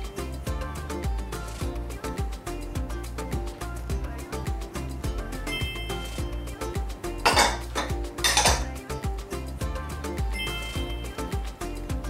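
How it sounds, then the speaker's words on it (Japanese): Melted butter goes into a scone mix in a bowl and is stirred, giving a steady run of clinking and scraping from a utensil against the bowl, with a couple of louder rustling bursts near the end. "溶かしバターです。全部入れちゃいます。"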